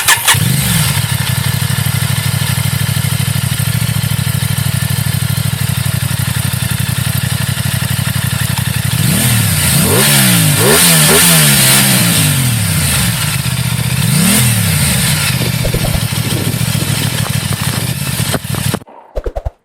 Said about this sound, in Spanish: ahora os la voy a arrancar para que escuchéis todo lo que nos tiene que decir Aprilia